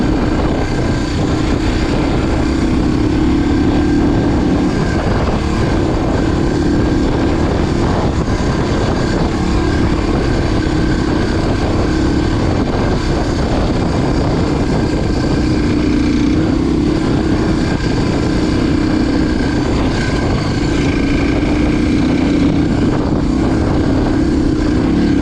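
A Suzuki DR350 motorcycle accelerates along a dirt forest road near Monument, Colorado. Its engine drone is loud, close and sustained for the whole stretch, with no break.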